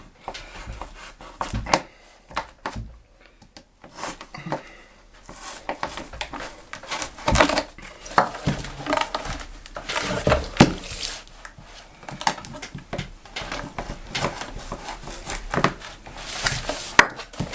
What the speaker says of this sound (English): we're just going to go down here with a knife, see if we can pop it open